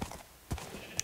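Horse hooves clip-clopping in Minecraft, a few soft, sparse steps with a louder thud midway and a sharp click at the end, faint and close.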